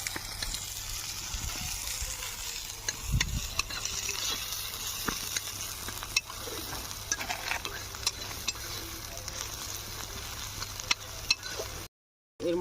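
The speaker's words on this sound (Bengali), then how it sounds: "পেঁয়াজ দিচ্ছি, আমরা পেঁয়াজটাকে একটু ভালো করে নেড়ে নেব" Onions frying and being stirred in a pan while cooking outdoors in the Sundarbans forest, giving a steady close sizzle with scraping stirs and small clinks throughout, briefly cutting out near the end.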